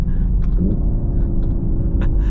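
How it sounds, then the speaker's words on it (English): A Hyundai IONIQ 5 N rolls over a railway track, a loud, close, continuous low rumble with a couple of brief bumps as the wheels cross the rails. "Going over the railway track."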